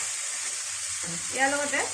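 Steady sizzle of tomatoes frying in butter in a pan, with a brief rising hiss as something is stirred or added near the end.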